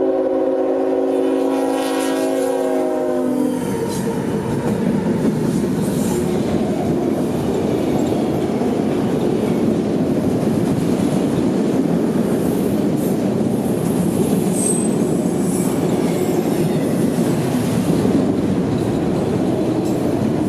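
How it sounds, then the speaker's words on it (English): Freight train X222 hauling a long string of auto racks bound for Birmingham sounds a brief horn blast, then rumbles past at close range as a steady, loud roar of rolling wagons with clickety-clack. "the headlight of X222 would crest the hill, and in moments he was here, with a long string of auto racks for Birmingham"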